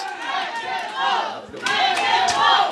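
Wrestling crowd at a live JCW show cheering and shouting in loud, surging waves, with battle-cry-like yells rising and falling close around.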